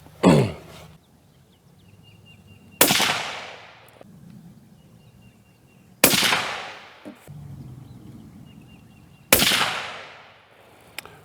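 A .204 Ruger Ruger American Predator rifle firing 32gr Remington Premier Accutip-V rounds: four loud, sharp shots about three seconds apart. Each crack trails off in a ringing decay.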